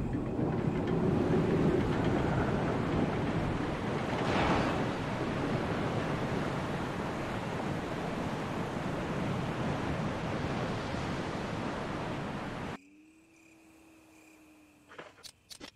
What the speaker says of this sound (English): You hear the sound of a waterfall in the distance.